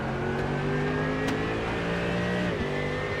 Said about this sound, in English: listening to the Mercedes being slammed through the rev range, up then down through the gears, in through the braking zones once again